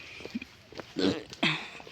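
Short throaty burps erupt in a quiet outdoor setting, a faint one followed by two louder, closer bursts about half a second apart, with no talking.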